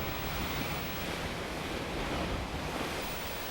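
Surf and sea breeze off the Indian Ocean make a steady, dense wash of crashing waves and rushing wind, a constant hiss with no voices.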